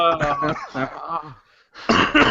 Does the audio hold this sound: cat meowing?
no